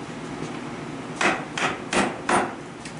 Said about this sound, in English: Hardwood like maple. Can be easily batoned.